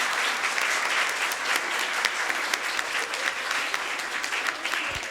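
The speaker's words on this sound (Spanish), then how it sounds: "sí quisiera pedirles sus últimos aplausos, por favor, a cada uno de los que están aquí" Applause from a university panel discussion audience for the panelists, sustained and fairly loud for about five seconds, with distinct individual claps audible within the dense clapping and no talking.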